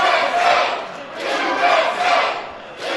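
Wrestling crowd chanting USA in a rhythmic, rising-and-falling roar that swells in repeated waves, loud and close, with no commentary heard.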